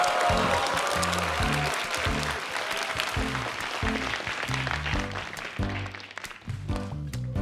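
An audience claps loudly and steadily through a science concert as a particle accelerator project director is welcomed, with music playing beneath the applause.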